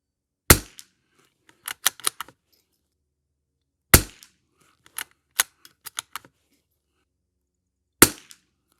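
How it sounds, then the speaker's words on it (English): Gunshots from a Savage MKII TR rifle at an outdoor range: three sharp, loud cracks spaced about four seconds apart, each followed by a cluster of lighter clicks and rattles from working the action. "a little bit more shooting with this thing"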